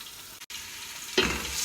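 Small onion frying in melted butter, a bright steady sizzle that briefly cuts out and then swells louder as the hot fat crackles.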